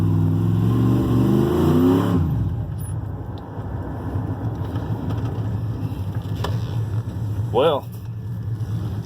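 A 1988 GMC Sierra pickup, a barn find running for the first time, has its engine catch and settle into a steady low rumble after a loud stretch of cranking. The idle carries on with a brief rising rev near the end.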